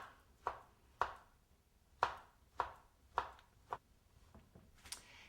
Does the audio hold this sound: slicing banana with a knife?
yes